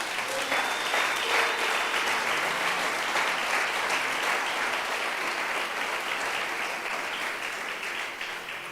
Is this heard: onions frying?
no